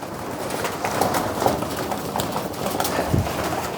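Racing pigeons coo in a loft, a steady low murmur of soft, overlapping calls that carries evenly throughout at moderate level, with no voices.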